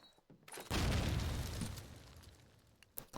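A grenade detonates in the video game Call of Duty 2, one sudden loud explosion with a heavy low boom that rolls off into a long fading rumble, followed by a couple of faint sharp pops.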